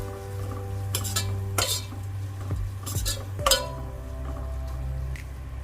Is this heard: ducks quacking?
no